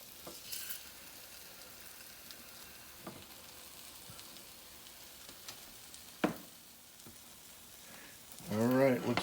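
A ham and cheese omelette with onion, peppers, mushrooms, spinach and tomatoes fries quietly in a pan, a soft steady sizzle broken by a few clicks and a brief louder scrape near the end.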